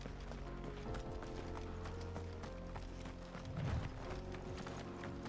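Hooves clop rhythmically as a horse is ridden in the video game Final Fantasy XVI, a steady trotting beat layered over background game music and ambience.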